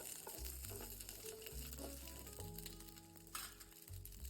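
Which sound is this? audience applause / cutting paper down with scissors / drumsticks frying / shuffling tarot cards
drumsticks frying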